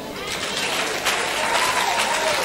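A church congregation applauding to acclaim Jesus during a Sunday service, a dense, steady burst of clapping from many hands in a reverberant room, with voices mixed in.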